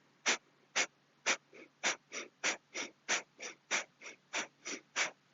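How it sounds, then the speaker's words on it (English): Breath of fire yoga breathing, a steady run of about fifteen rapid, forceful nasal exhales in even rhythm, close and fairly quiet, with no talking. "we're going to increase the speed and work with a breath of fire, which is active in and exhale"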